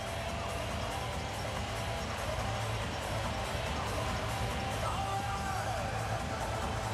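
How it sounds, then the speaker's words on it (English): Hockey crowd at a Washington Capitals home playoff game against the Bruins, a steady roaring wash of arena noise with scattered yells and cheers holding level throughout. "Very responsive crowd picking up the cues to make noise here in Washington."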